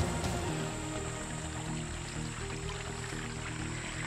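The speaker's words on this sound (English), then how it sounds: "maybe I'll film the babbling brook" A babbling brook at Volo Bog flows in a continuous soft wash of trickling water, steady and fairly quiet, with no voices over it.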